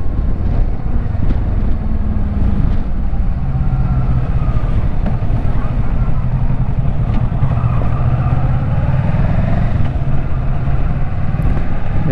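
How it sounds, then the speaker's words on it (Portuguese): Kawasaki Versys 650 motorcycle engine droning steadily while riding on the road, loud and close with heavy wind buffeting over the microphone and no speech. "Nós estamos vindo de Kawasaki Versys 650."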